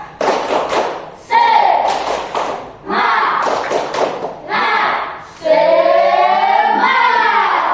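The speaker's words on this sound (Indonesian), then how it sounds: "tepuk semangat" A primary school class performs a rhythmic spirit clap, bursts of many hands thumping together in time with children's loud chanting voices.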